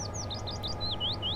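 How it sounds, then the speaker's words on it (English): Small birds chirp in a train simulator game, with repeated quick rising tweets at moderate distance over a steady low rumble, no talking. "Ah, the birds chirping. Lovely."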